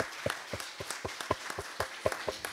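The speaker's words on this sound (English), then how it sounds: "So let's give them a big round of applause." Scattered, fairly quiet applause from a small group at a church Sunday service for the hospitality volunteers, with distinct individual claps in an uneven rhythm.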